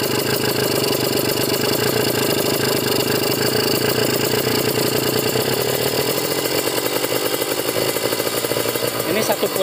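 Kawasaki Ninja RR two-stroke motorcycle engine with a PWK 28 carburetor being tuned, running loud and close with a steady buzzing idle that shifts and rises slightly toward the end; a voice speaks over it.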